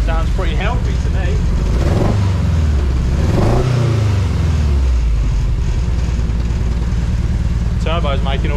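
A turbocharged car engine revs up and falls back twice, with a rising and falling whine under a loud, close, steady engine drone, while someone talks over it.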